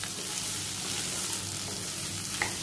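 Chopped water chestnut (singhara) sizzles and fries in hot oil with cumin and green chilli in a pan, a steady close crackling hiss with faint stirring, no voices.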